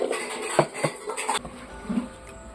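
A metal lid is handled and set onto a pot of Angamaly mango curry, producing a few close clinks and taps in quick succession, followed by a quieter rattle.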